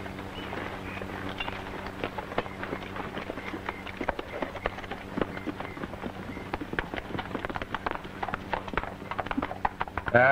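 Horses gallop past in a steady clip-clop of many hooves, with dense overlapping hoofbeats continuing throughout, moderately loud over a constant low rumble, with no talking.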